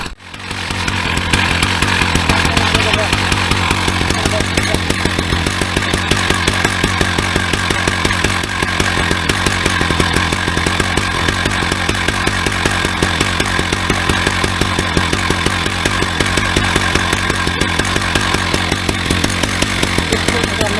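Husqvarna 380CD single-cylinder chainsaw set up for milling runs continuously and loudly up close, a steady buzzing two-stroke roar with rapid engine pulsing and no pauses or speech.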